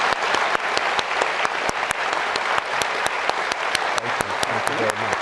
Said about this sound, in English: Round of applause for the Chief Justice.